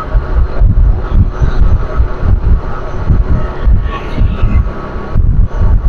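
A motorcycle engine runs steadily and loudly close by during a riding lesson, with a rumbling drone and some wind buffeting throughout and no pauses.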